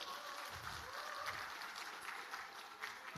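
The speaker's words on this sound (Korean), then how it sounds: "뜨거운 박수로 시작하겠습니다." Faint applause from a room of party lawmakers at a National Assembly workshop, a continuous, distant patter of clapping with no clear individual claps.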